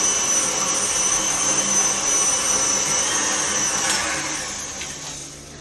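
An electric mixer beats butter and sugar for cookie dough at medium-high speed, giving a loud, steady motor whir with a thin high whine, easing slightly quieter over the last second or so.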